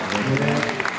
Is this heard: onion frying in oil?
no